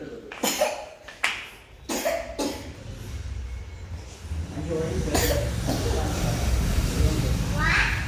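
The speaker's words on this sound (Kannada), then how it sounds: "ನೋಡ್ದೆ ಕೆಮ್ಮು ಹೆಂಗೆ ಬಂತು?" A child coughs in several sharp, separate bursts close to the microphone, and a steadier rumbling background noise follows.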